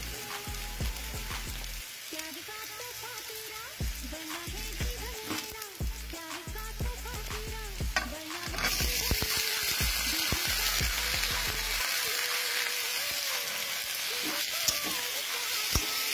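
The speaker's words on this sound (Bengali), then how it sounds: "প্রথমে কড়াতে তেল নিয়েছিলাম, তেলটা গরম হতেই পেঁয়াজ একটু ভাজা ভাজা করে নিয়েছিলাম।" Onions frying in hot oil in a kadai make a steady sizzle with scattered stirring scrapes. The crackle turns brighter and denser about halfway through, and no one speaks.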